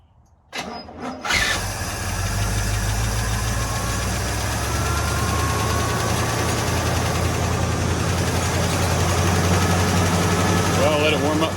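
A 1969 Buick Skylark V8 cranks briefly, catches and fires up, then settles into a loud, steady, slightly rough idle that runs close and continuous for the rest of the stretch.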